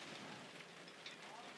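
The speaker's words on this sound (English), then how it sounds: "It's raining again." Rain patters steadily on a sailboat, a faint, even hiss with no distinct drops standing out.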